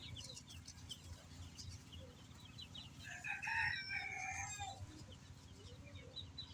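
Eight-day-old chicks in a small shelter chirp faintly from a distance, with a short cluster of high peeping calls in the middle over a low steady background hum.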